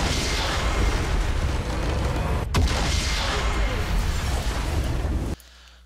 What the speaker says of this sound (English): And it looks like we get the double explosion.